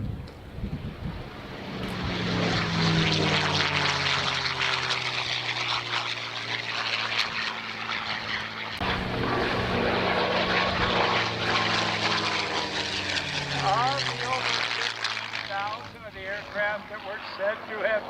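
A P-51 Mustang propeller airplane roars past at an air show, engine drone rising and falling with a whistling pitch sweep as it passes, voices faintly underneath.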